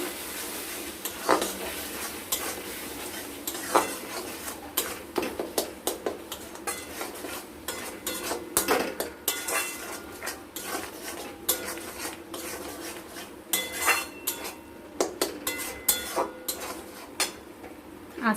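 A spoon stirs and scrapes fish curry masala for catla in a metal pan, giving irregular clinks and knocks that come in clusters over a steady low background, close and moderately loud with no voices.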